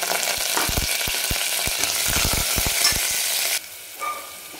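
Curry leaves, garlic and ginger hitting hot oil on a low flame, a loud dense sizzle with sharp sputtering pops that cuts off suddenly to near quiet near the end, close and alone.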